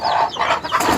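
A crested country hen gives a quick run of close, clear clucks within about a second, with no other sounds over it.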